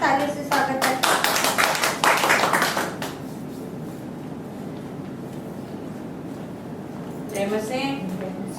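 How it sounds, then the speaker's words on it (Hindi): A congregation at a Hindi-language Christian prayer and worship service claps loudly and briskly for about three seconds, then the room falls quiet before a voice begins speaking near the end. "आइए हम स्तुति आराधना के लिए प्रभु यीशु मसीह का तालियों से स्वागत करते हैं।"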